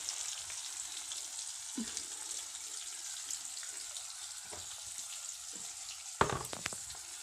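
Onion and garlic fry in a pan with a faint, steady sizzle, broken by a few soft clinks and scrapes of stirring, with one louder clatter near the end.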